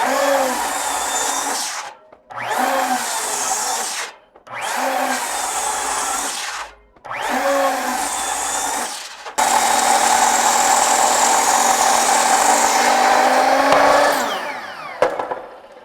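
A battery-powered beam saw runs in four short bursts separated by brief silences, then runs in one longer steady whine before winding down, cutting lumber for a staircase in a garage.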